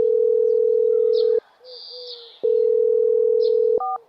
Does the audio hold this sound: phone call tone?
yes